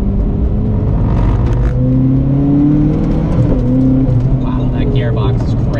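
A Zenvo hypercar accelerates with a loud, rising engine drone inside the cabin, its pitch climbing through the gears under steady, close conversation.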